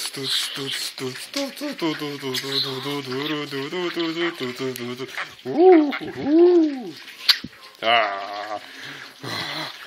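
A giant parrot screeches and squawks close by in a series of harsh, warbling calls, with a person talking excitedly over and between them.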